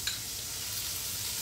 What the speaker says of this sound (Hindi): इसमें मैं बारीक कटा हुआ प्याज डाल रही हूँ।